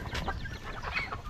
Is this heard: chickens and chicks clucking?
yes